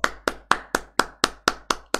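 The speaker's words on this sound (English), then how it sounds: "Everyone in the chat, give him an applaud. Clap, clap." A single person clapping in a live online stream, nine evenly spaced sharp claps at a brisk, regular rhythm, close and crisp with no talk over them.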